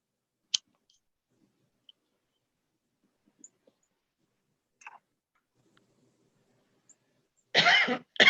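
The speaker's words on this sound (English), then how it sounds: "You smoke and I cough." One sharp cough sounds early in a quiet indoor room, followed by faint clicks and small noises, then a louder burst of coughing or throat clearing near the end.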